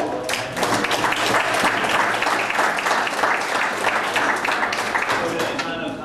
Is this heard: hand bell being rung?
no